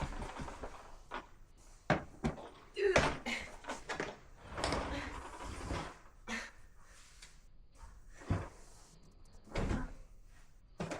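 A cupboard door is swung back and forth while bag straps hanging on it rattle and knock, giving irregular bursts of clattering and soft thuds, close by with no talk.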